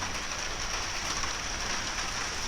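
Steady, even rain falls as a dense wash of hiss, continuous and unbroken with no voices.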